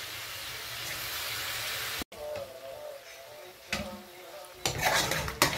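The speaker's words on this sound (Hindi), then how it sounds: "अभी हम इसको 2-4 मिनट और मज़ीद इसको फ्राई करेंगे" Chicken fries in a karahi, a steady hiss of hot oil broken by metal spoon clanks and scrapes against the pan, with sharper clatters toward the end and no clear speech.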